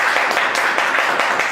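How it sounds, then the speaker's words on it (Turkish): An audience at a religious talk in Turkey bursts into brisk, dense applause, loud and sustained for the whole moment with no speech over it. "Bir alkış yapalım mı?"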